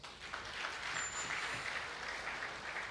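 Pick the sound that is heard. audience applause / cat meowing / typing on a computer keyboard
audience applause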